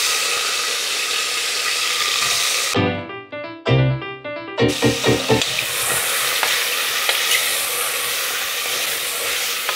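Loud, steady sizzling of beef searing in hot oil in a pot, close up, with a brief stirring clatter in the middle before the hiss returns.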